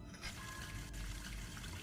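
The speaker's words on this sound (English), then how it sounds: "Faucet." A running faucet in a haunted-house video game gives a faint, steady rush of water that stays even for the whole moment, with no voices.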